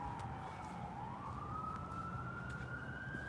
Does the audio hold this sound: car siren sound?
yes